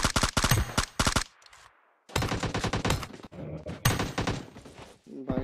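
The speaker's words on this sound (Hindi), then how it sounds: "ऐसी गोली चला रहा है भैंसुर बिना स्कोप का" Gunfire in PUBG Mobile from an unscoped weapon: several loud bursts of rapid shots in clusters with short gaps between them, sharp and close, with no voices over them.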